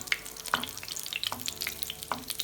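Tuna falafel frying in a little oil in a pan over medium heat, steady sizzling broken by several sharp scraping clicks of a spoon stirring and nudging them, close and clear.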